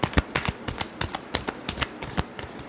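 Cards being shuffled for a tarot reading: a quick run of crisp, close flicking and tapping riffles in an irregular clatter, with no voice.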